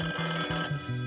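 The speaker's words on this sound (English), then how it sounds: "The phone rang, we'd pick it up" A telephone bell rings in quick repeated bursts, loud and close, with no voices over it.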